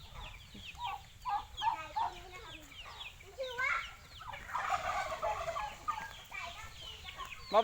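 A hen and her young chicks cluck and peep in a rural yard in Sakon Nakhon, Thailand, with scattered soft clucks and high chirps close by throughout and voices talking nearby.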